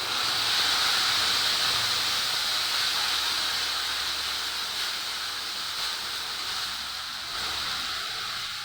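A paste of onion, chili, garlic, ginger and tomato hits a hot pan for egg curry, giving a steady, loud, close hissing sizzle that slowly eases off and continues without talk.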